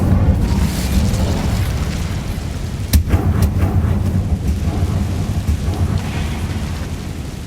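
A fire spell cast in the game Hogwarts Legacy erupts as a loud, rumbling blaze with a sharp crack near the middle, a dense roar sustained across the whole stretch.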